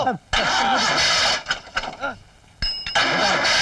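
A car engine cranks and catches in short bursts, sputtering on and off with brief gaps before settling into a steady run, loud and close, with voices talking over it.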